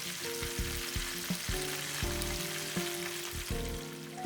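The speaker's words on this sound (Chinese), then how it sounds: "炸到漂亮的金黄色就可以起锅了" Taro rice cake with melting cheese deep frying in hot oil, a steady close sizzle with bubbling crackle and repeated soft turning or stirring knocks throughout, no voices.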